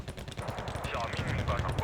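Tank cannon fire in the war strategy game Wargame Red Dragon pops in several bursts of muffled shots, mixed under a voice talking.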